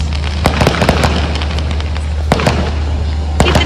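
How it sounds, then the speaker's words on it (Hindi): Fireworks and firecracker sky shots going off, with sharp repeated pops and bangs over a steady low rumble, loud and close. "देखो कितने सारे फायर क्रैकर्स"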